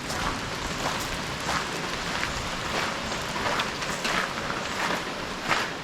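Steady rain falling outdoors in Sweetwater, Tennessee, a dense, even hiss of drops with soft pattering swells and no voices.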